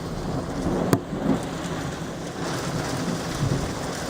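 Thunder rolls low and steady through a hailstorm, with a sharp crack near the start and a rumble under the constant patter of hail and rain on surfaces.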